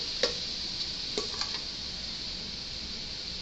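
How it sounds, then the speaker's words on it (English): A steady hiss of Mediterranean vegetables sizzling in a hot pan, with a few soft clicks and taps of stirring early on. "You can hear it sizzle, so it's heated."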